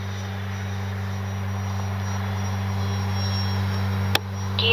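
A Flightline OV-10 Bronco RC model plane in flight, giving a steady, even motor drone that holds at a constant pitch, with a single sharp click near the end.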